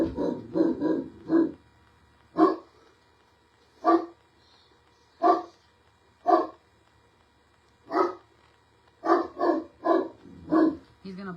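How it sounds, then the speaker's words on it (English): A dog barks in repeated bursts, a quick cluster of barks, then single barks spaced a second or two apart, then another rapid cluster, loud and close with no talking over it. "He's gonna bark for a minute."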